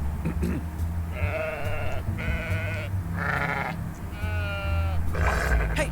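A cartoon sheep in an animated retelling of the Pig War gives several loud, wavering bleats in a row, each a short drawn-out call separated by brief pauses, under a low background drone.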